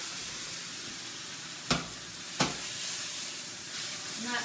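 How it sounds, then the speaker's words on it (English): Food in a 12-inch skillet sizzles with a bright, steady hiss, broken by two sharp clicks partway through. "sizzling away, getting nice and brown"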